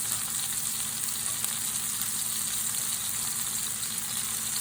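Liver and onions shallow frying and browning in a pan, a steady close sizzle with dense crackling spatter that holds evenly throughout, no voices.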